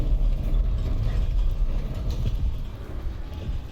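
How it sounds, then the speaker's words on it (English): A train rumbles steadily in Call of Duty: Vanguard, with dense low-pitched rolling noise and faint mechanical clatter filling the whole stretch at close range. "This doesn't sound like we're at sea. This sounds like a train."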